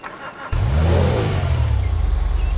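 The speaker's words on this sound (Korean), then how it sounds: "제가 엔진 소리 한번 들어볼게요." The Enus Super Diamond, a Rolls-Royce-style luxury car in the GTA5 video game, has its engine start abruptly after a quiet moment and then rev loudly in a sustained, close, rumbling roar.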